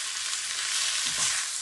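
Tandoori chicken curry sizzles and fries in a wok, a steady hiss with a brief stirring scrape partway through, close and moderately loud with no talk.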